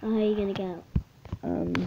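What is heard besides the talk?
No distinct noise like a dog, phone or traffic.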